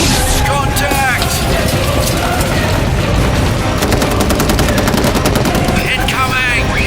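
Heavy, continuous gunfire in a science-fiction space battle video game, loud overlapping rapid shots and bursts with rumbling impacts, mixed with shouted voices.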